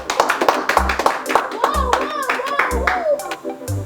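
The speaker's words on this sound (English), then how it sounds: "A round of applause." A round of clapping from a small group celebrating a YouTube Silver Creator Award, distinct hand claps in irregular rhythm with a voice and other chatter over them, plus thumping low knocks at intervals.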